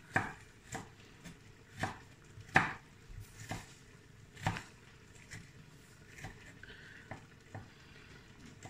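A knife chopping a small piece of fresh ginger on a cutting board, giving a series of distinct, fairly close taps at an uneven pace, some sharper and louder than others, over faint kitchen background noise.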